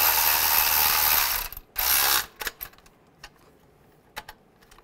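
A ratchet tightens the camshaft position sensor bolts on a 1998-2010 Volkswagen Beetle. It gives a long, close clicking run that breaks off, comes back, then ends in scattered single clicks and taps.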